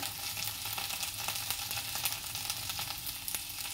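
Steady crackling sizzle of food frying in a hot pan, with occasional soft stirring scrapes, continuous and close.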